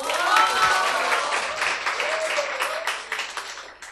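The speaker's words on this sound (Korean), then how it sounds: "우리 허성옥님 박수로 맞이해 주시기 바랍니다." Audience applause greeting a woman coming forward to share her story at a church testimony gathering, a dense wash of clapping that stays loud throughout, with some cheering voices mixed in.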